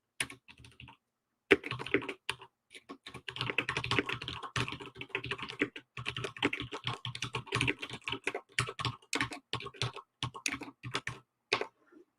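Rapid, steady typing on a computer keyboard while entering code, with dense clusters of close keystrokes and a few short pauses, no talking.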